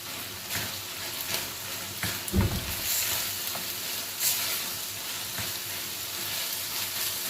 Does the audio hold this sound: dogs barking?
no